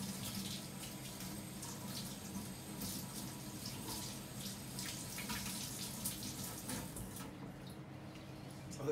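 Coffee machine parts from a new Taobao-bought machine are rinsed under a steady running tap, giving a continuous close splash and water stream with no talk.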